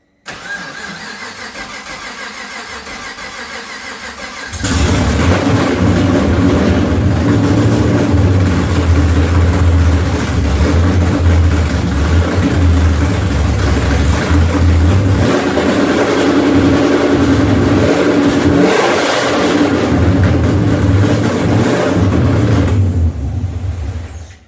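A V8-swapped Rocket Bunny 240sx at first start-up: a few seconds of quiet, then the engine catches and runs loud and steady close by, with throttle blips and revving over a rough idle until it cuts off near the end.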